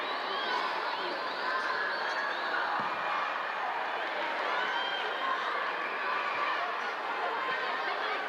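Home crowd at a Brighton & Hove Albion v West Ham United women's football match, a steady broad roar of voices and shouts from a distance, continuous with no breaks.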